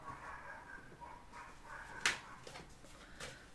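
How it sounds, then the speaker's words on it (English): Two chihuahuas fighting across the street give off faint, distant yips and whimpers, with one sharp, louder bark partway through and a fainter one after it. "that's the dogs across the street if you hear them. They got two chihuahuas and all they do is fight."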